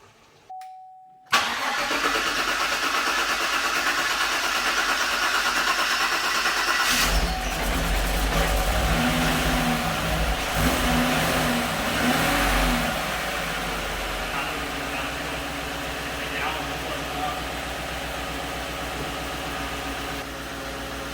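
A big Chevrolet Silverado truck engine cranks, catches and roars to life in a garage, then settles into a steady rumbling idle with a few revs, loud and close.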